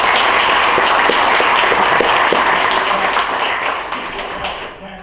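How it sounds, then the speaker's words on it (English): Town hall audience applauding a meeting moderator, a dense, steady wash of clapping that carries on throughout and thins slightly toward the end. "Let's give our moderator a round of applause."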